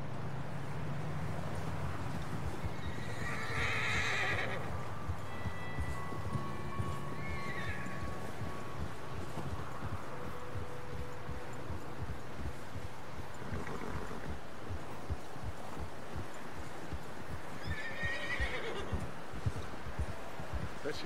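Horses in Red Dead Redemption 2 walk with steady clip-clop hooves, and loud neighs and whinnies rise above them, with game dialogue mixed in.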